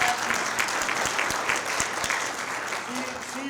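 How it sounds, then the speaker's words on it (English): A meeting audience applauds a colleague in a steady, dense burst of clapping that fills the room at a fairly constant level, with faint voices underneath. "So I want to give her a round of applause,"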